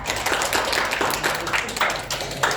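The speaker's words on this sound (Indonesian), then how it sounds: "tepuk tangan buat Siva" Classroom applause for a student named Siva, a steady patter of many hands clapping together at an even pace, close and fairly loud without talk over it.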